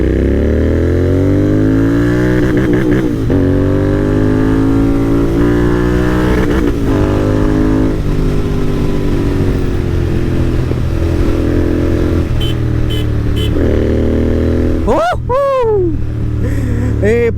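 A Royal Enfield GT650 motorcycle fitted with an AEW exhaust revs loudly up close, its engine note rising and falling through repeated throttle blips with sharp crackles near the end, and someone talks over it.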